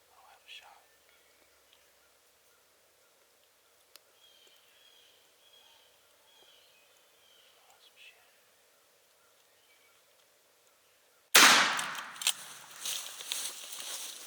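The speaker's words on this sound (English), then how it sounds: "Yeah, I'll have a shot." A loud, sharp gunshot cracks out during a turkey hunt in the Deep South woods and echoes briefly, coming after a long stretch of near silence with soft whispering, faint rustles and distant birds.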